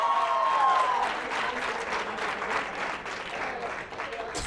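A studio audience on a Catalan spelling quiz show for schools applauds after the final scores are read, a steady moderate burst of clapping with a brief tone at the start.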